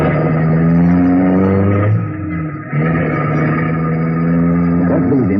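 A car engine starts up and revs hard as the car pulls away in pursuit in a 1951 radio drama, a loud, steady motor drone with a brief dip in the middle before it climbs again.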